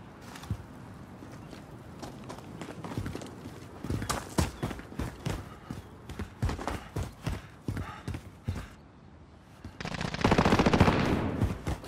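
Rapid bursts of gunfire in the video game Warzone crackle in uneven volleys, loud and close, ending in a heavier roaring burst of noise.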